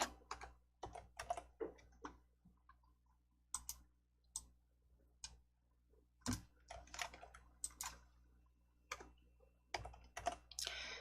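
Someone types on a computer keyboard and clicks keys in quick irregular taps, close and fairly quiet, with no talking.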